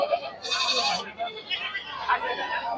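Goats bleat nearby in short wavering calls at a goat market beside a railway station, mixed with someone talking over them.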